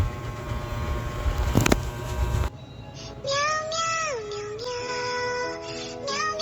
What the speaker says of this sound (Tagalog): Itong isa sad meow song try natin.